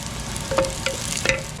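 Pork sautés in a little oil, sizzling steadily while a utensil scrapes and taps against the pan several times.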